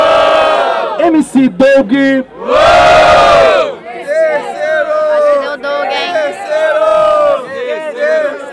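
Crowd at a rap battle semifinal in São Gonçalo, Brazil, roars, cheers and shouts loudly in a sustained burst, with an MC's voice calling over the noise before and after.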